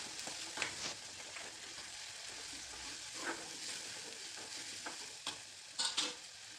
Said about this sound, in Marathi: वाटण छान परतून घेऊ